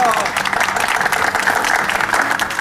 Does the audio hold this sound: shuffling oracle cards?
no